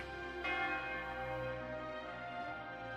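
A bell-like ringing tone in the video game Code Vein 2: one struck chime that hums and slowly fades, soft and resonant, with no voices.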